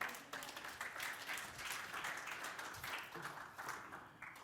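A church congregation applauds and cheers together, a dense sustained wash of clapping with raised voices mixed in, heard from within the crowd at moderate volume.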